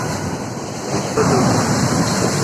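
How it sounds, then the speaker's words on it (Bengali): Rough, high-tide sea surf crashing on Digha beach during a new-moon swell, a steady broadband roar that swells louder about halfway through as a bigger wave breaks close by, with wind buffeting the microphone. "দেখো গোটা সমুদ্রের ঢেউ অপূর্ব সুন্দর, অপূর্ব সুন্দর।"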